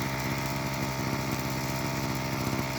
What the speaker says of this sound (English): it starts to warm up, and you get a nice even engine sound